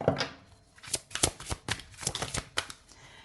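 Aloha oracle cards being shuffled by hand, a run of quick papery riffles and soft slaps repeating close to the listener with no talking.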